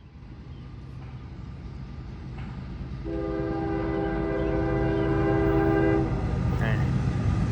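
A heavy freight train led by Conrail Heritage ES44AC locomotive 8098 rolls past with a low rumble. A loud, sustained multi-tone horn blast lasts about three seconds in the middle, and the train's roar continues after it.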